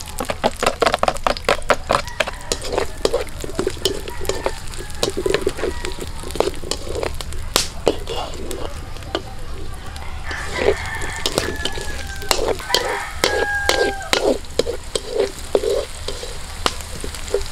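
Garlic sizzles steadily in a hot pan over an outdoor fire for squid adobo, with frequent stirring scrapes and clicks on top and a rooster crowing faintly in the background.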